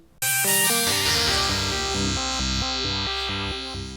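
A Roland JD800 synthesizer sounds a sustained tone on its second layer, a loud, bright chord that swells in at once and holds steady for several seconds with shifting stepped notes, played alone without talk.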